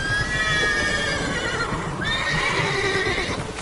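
A horse in The Witcher 3 neighs in a long, loud whinny with a second rising call, over faint hoof clip-clop and no speech.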